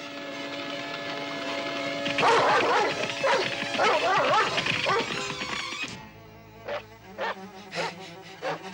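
Cartoon dog barking and yipping excitedly while following a scent trail, a rapid run of loud barks in the middle, then a few sharper separate yips near the end over background music.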